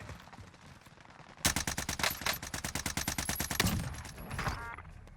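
A C58 assault rifle loaded with stopping power rounds fires in a video game: silence, then a long rapid automatic burst of sharp, loud, evenly spaced shots for about three seconds, tapering off.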